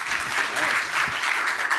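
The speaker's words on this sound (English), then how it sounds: "let's give a round of applause" An audience at a sports analytics conference talk applauds steadily for under two seconds, a dense, even clapping throughout.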